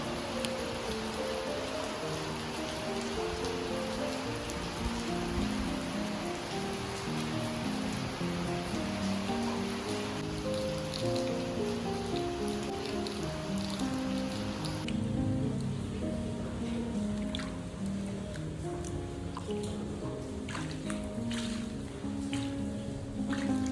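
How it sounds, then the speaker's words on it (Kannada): Light rain falls steadily outdoors near a home, a continuous soft patter of drops on surfaces lasting throughout with no voices. "ಅಷ್ಟರಲ್ಲಿ ಮಳೆ ಬಂದುಬಿಡ್ತು"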